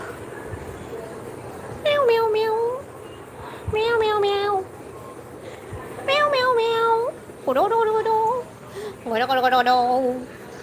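A house cat meows repeatedly at night, five loud, wavering calls spaced about two seconds apart, close by with quiet pauses between.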